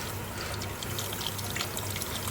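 Milk pouring into a béchamel sauce, a steady liquid stream with soft trickling splashes, continuous and fairly close.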